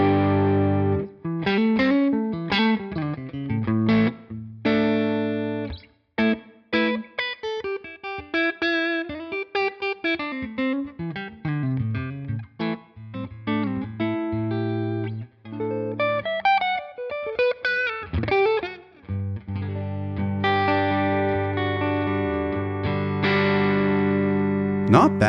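An electric guitar plays through a Line 6 Helix amp model of a Divided by 13 JRT, miked with a dynamic mic two inches back: distorted single-note lines and bends ending in ringing sustained chords, close and alone.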